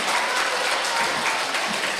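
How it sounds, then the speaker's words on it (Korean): Dense, steady applause from an audience at a residents' briefing meeting fills the clip, close and continuous, with no voices above it. "박수 한번 보내주십시오."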